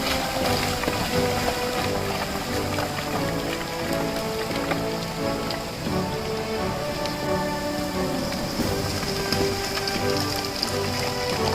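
Rain patters steadily on surfaces along a village mountain road blocked by a landslide, a constant close hiss of drops with no letup, joined by faint tonal hum in the background.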